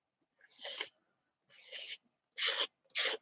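A library card used as a spatula scrapes gesso across paper in four short rasping strokes with brief pauses between them, close and fairly quiet.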